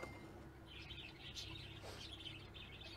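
Small birds in a pet shop in a simulation game chirp and twitter in quick, bright bursts over a faint steady hum, fairly quiet and continuous with no voices.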